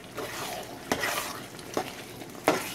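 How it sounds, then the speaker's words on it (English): A spoon stirs an eggplant (garden egg) stew in a pot, Cameroon style, making three distinct scraping strokes against the pot over a soft, bubbling simmer. "keep stirring"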